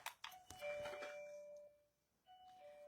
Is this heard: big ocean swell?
no